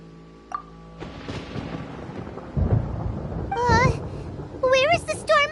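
Rumbling thunder in the video game Genshin Impact, rolling in beneath a musical tone and game sounds, followed by bright chirping character voices and effects.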